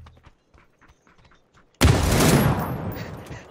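Gunshots in a shooter video game break out suddenly after quiet, murmured talk, turning into a loud, dense volley of rapid fire that slowly fades.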